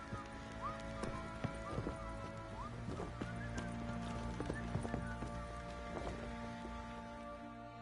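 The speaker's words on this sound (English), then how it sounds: "Time to water the horses." Horses in The Witcher 3 neigh and whinny with clip-clopping hooves over a steady background that sounds like light rain, with several short whinnies scattered through and no talking.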